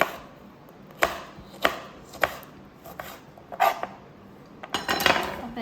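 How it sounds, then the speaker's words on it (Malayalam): A knife chops green chillies on a board, with about eight crisp, close taps at an uneven pace that quicken into a short flurry near the end. "ഇനി ഇതിലേക്ക് നമുക്ക് പച്ചമുളകും കൂടി അരിഞ്ഞെടുക്കാം"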